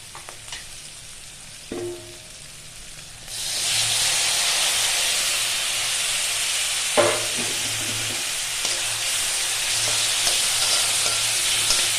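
Chopped tomatoes go into a hot pan with green chillies and burst into a loud, steady sizzle that holds to the end, with a couple of stirring knocks and scrapes, close up.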